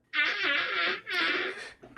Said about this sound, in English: His farts just seem like they literally sound like his ass is in pain.